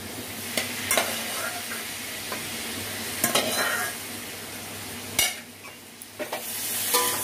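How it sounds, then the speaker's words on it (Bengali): Boiled potatoes and bitter gourd are stirred and fried together with spices in a pan for a vegetarian curry: a constant sizzle broken by several sharp scraping strokes and utensil clacks. "এবার আলুটাকে উচ্ছের সঙ্গে ভালো করে মিশিয়ে নিয়ে একটু ভাজা ভাজা করে নিতে হবে।"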